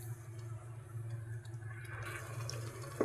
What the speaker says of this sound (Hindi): अब मैं ये थोड़ा सा पानी डाल रही हूँ।